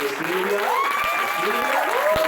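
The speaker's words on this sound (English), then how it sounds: "a big round of applause as Natasha comes up" Brief burst of applause from an audience at a communications gathering as a woman walks up, dense clapping filling the whole short stretch with a few whoops rising over it.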